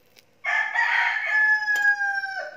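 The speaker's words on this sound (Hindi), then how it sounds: "हमारे मुर्गे की प्यारी आवाज़।" A rooster crows once in a long, drawn-out call, loud and close, after a brief moment of quiet.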